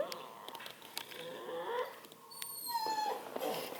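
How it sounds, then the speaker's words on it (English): A Redbone coonhound puppy whines and whimpers in thin, rising cries at moderate loudness, with a person speaking softly to it in between. "You gotta be the whiniest puppy ever."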